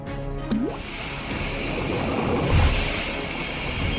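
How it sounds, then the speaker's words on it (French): A Ladybug bath bomb dropped into a bathtub of water, a brief splash and plop followed by a continuous close fizzing, bubbling wash of water. "nous avons cette baignoire où je vais jeter la bombe de bain Ladybug"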